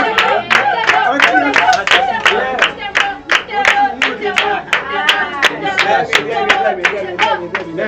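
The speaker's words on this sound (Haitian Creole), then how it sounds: "on applaudit chacun" An audience at a gathering claps in a steady, rhythmic beat over eight seconds, loud and close, with voices and music-like tones running underneath.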